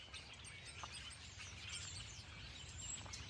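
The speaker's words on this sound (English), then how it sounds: "It's a flash mob of robins." Robins chirping in a dense flock outdoors in New England grass, many short overlapping calls over steady background noise, continuous and moderately near.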